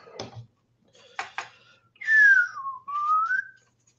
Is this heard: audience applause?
no